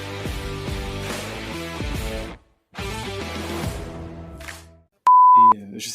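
A single sharp electronic beep sound effect in a French cosplay podcast, loud and steady for about half a second near the end, following stretches of music-like tonal sound broken by short silences.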